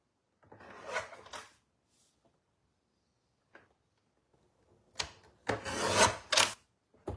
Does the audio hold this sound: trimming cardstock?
yes